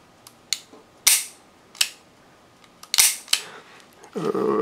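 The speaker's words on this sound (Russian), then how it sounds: "Спуск в режиме Double Action." Smith & Wesson Model 19 Performance Center Carry Comp revolver dry-fired in double-action mode: a series of sharp, close, isolated mechanical clicks spaced irregularly over a few seconds, ending with a brief rattling handling sound.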